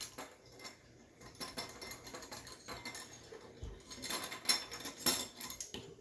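Sauce ingredients with sugar mixed by hand in a bowl, a utensil clinking and scraping against the sides in irregular, light taps and scrapes, fairly close and quiet, with no voices.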